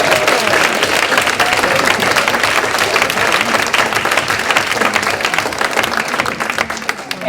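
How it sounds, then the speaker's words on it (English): Loud, dense audience applause at a luncheon fills the room steadily for several seconds, fading slightly near the end. "a big round of applause for Patricia"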